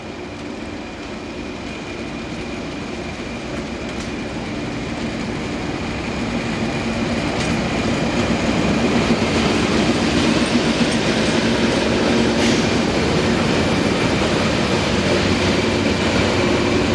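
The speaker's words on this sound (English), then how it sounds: "1802 is seen running around its train at Medina del Campo before returning to Portugal via Salamanca." Portuguese class 1800 diesel locomotive 1802 running around its train at Medina del Campo station, Spain: a steady, continuous engine rumble with a sustained tonal hum, growing slightly louder over time, with no talk.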